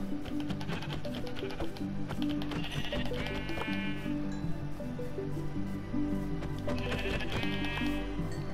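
Sheep in the video game Minecraft bleat in two clear rounds amid steady game sounds and tapping, loud and close.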